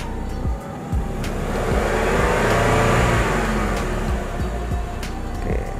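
A Suzuki car engine runs steadily during a used-car inspection, holding a loud, continuous mid-range drone with a swelling rev in the middle before settling back, with no talk over it.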